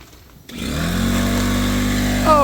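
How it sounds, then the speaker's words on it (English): An air compressor kicks on after a brief quiet moment, its motor spinning up into a loud, steady hum with a strong low drone, near and alone with no talk. "just like that, the air compressor kicks on"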